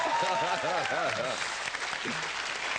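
A game show studio audience applauds steadily and loudly for a contestant, with a host's voice carrying over the clapping.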